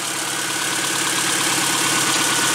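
A car engine idles steadily during ignition timing adjustments, a continuous close mechanical hum and rumble with no talking.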